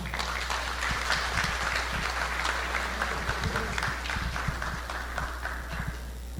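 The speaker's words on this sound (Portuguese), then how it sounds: "Vamos receber com uma salva de palmas Rosana Rosário." Audience applause at a spiritual lecture gathering, a continuous, fairly faint patter of clapping over a steady low hum, with scattered louder claps.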